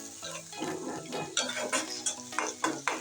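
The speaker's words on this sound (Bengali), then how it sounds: "আদা রসুনটা দিয়ে আমি ভালো করে পেঁয়াজের সাথে ভেজে নেব" Ginger garlic paste frying with onions in hot oil, a steady close sizzle broken by scraping spoon strokes and clinks against the pan.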